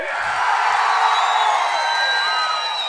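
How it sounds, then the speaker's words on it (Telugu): Crowd at a TDP political rally in Markapuram cheering and whooping in a dense, continuous roar, loud and steady for a few seconds with scattered clapping mixed in. "గట్టిగా చప్పట్లు కూడా చెప్పండి"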